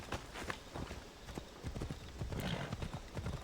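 Phobos, a horse in Assassin's Creed Odyssey, gallops with quick rhythmic clip-clop hoofbeats, fairly faint and steady across the whole stretch.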